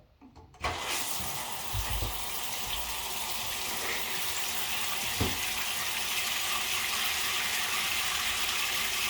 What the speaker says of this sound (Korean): 지금 욕조에 물 틀어달라고 온 거지